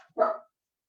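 A single short bark, somewhat quieter and a little distant, then silence.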